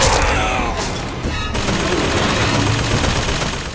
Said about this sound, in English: And he's shooting at something down there